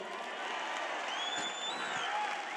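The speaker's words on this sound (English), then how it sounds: "He's giving me applause before we..." Rally crowd at a Trump campaign event in Milwaukee gives steady, dense applause with cheering, a continuous wash of clapping heard from a distance with a few whistles rising above it.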